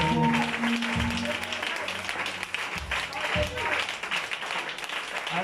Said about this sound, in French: Je veux qu'on acclame le Seigneur